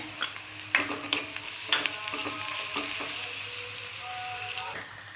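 Browned onion frying in a pan with a spoonful of ginger-garlic paste, for dhaba-style dal makhani: a loud, continuous sizzle with a few spatula knocks and scrapes early on, then a smoother hiss, nearby and without speech.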